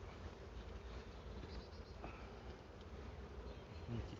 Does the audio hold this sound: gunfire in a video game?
no